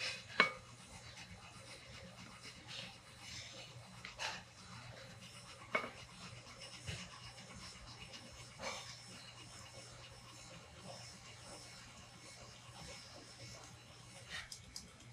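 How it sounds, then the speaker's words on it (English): A stand mixer runs at low speed while flour is slowly added for Parker House roll dough. The faint, steady motor hum carries scattered soft scraping and knocking sounds, and no one talks over it. "Turn the speed of the mixer down really low so you can just slowly"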